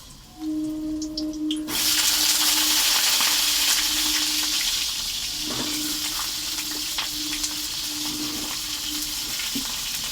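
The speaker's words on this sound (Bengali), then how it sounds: "আমি পটলগুলো লাল লাল করে ভাজবো" Pointed gourd (potol) pieces frying in very hot oil, a loud steady sizzle that surges in partway through and keeps crackling with a few clinks of utensils.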